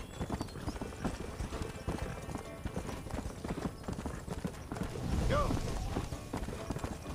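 Galloping horse hooves in the video game Red Dead Redemption, rapid rhythmic clip-clop close up and continuous, with a brief whinny and someone talking over it.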